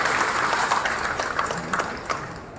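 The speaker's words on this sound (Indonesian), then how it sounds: "Baru tepuk tangan untuk ibu-ibu kita tadi." Audience applauds at a building inauguration ceremony, a fairly dense patter of many hands with occasional sharper claps, fading slightly toward the end.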